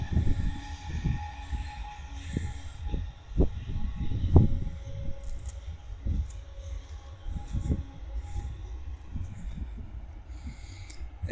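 A BNSF southbound freight train rumbles through Cajon Pass, a steady low roar with irregular clanks and thumps from the passing cars, heard close and without talk.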